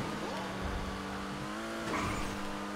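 A Dewbauchee Specter Custom sports car drives in a video game, its engine humming steadily at moderate volume with shifting pitch and a brief tire squeal near the end, a voice occasionally talking over it.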